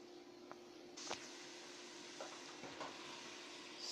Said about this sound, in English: And I'm going to add my pork